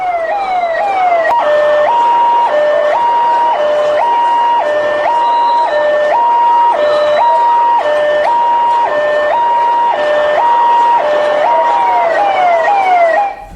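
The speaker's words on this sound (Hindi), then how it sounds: "इस भीड़ में सोचिए जब एम्बुलेंस आ गई" A loud ambulance siren wails in a repeating two-tone pattern, close and continuous, as the ambulance passes through the crowd at a Jagannath Rath Yatra procession, cutting off abruptly at the end.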